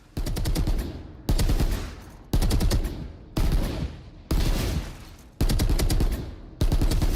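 Bulldog rifle fire in Valorant: seven loud, close bursts of rapid shots, each lasting under a second, with short quiet gaps between them. The rhythm is steady and no one speaks.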